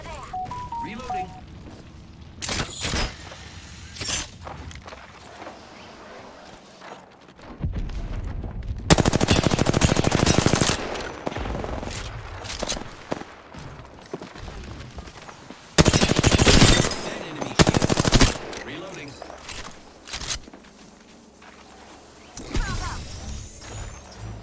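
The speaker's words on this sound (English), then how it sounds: "The enemies are shooting at me." Gunfire from enemies in the battle royale game Apex Legends: repeated loud bursts of automatic fire and sharp shots crack out in clusters, with quieter stretches between and voices talking over the action.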